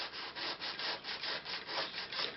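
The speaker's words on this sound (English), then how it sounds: "just take a little bit of the sanding block" A sanding block rubs back and forth on an S gauge model train rail, giving about eleven steady, even rasping strokes, close and fairly quiet, with no talking.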